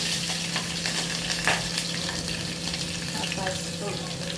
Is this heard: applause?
no